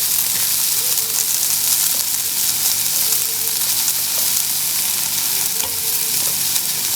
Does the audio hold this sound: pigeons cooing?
no